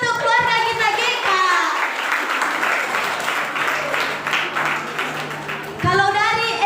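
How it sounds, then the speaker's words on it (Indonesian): Steady audience applause at a Saturday church worship service with children from an orphanage, filling the room for several seconds while voices, including a child's, talk over its start and end. "Tepuk tangan untuk keluarga kita GK."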